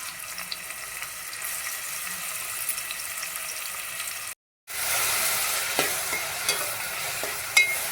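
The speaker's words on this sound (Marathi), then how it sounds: "आपण आता हा कांदा त्याच्यामध्ये भाजून घेऊया." Two finely chopped onions fry in oil in a pan with a soft, steady sizzle and occasional scrapes, broken by a brief moment of silence midway before the frying resumes slightly louder.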